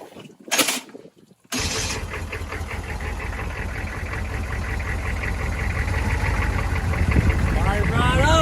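After a brief clatter, a car engine starts and settles into a loud, steady idle with a rough knocking rhythm, and a voice speaks over it near the end.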